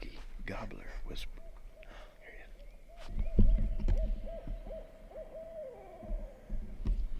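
A man imitates an owl's hoot with his voice, several drawn-out hooting calls in a row, loud and close, while wildlife calling is practised outdoors, with other people's chatter under and around the calls.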